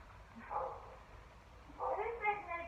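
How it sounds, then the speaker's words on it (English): A dog barks somewhere out among nearby flats, two short bursts of yapping spaced about a second apart, moderately loud over a low steady background hum. "Who's letting their dog bark like that?"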